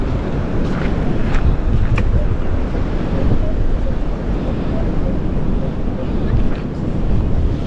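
Strong wind buffets the microphone outdoors while someone digs with a shovel, a loud, continuous low rumble with gusts that swell and ease throughout.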